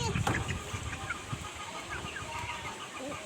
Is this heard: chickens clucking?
yes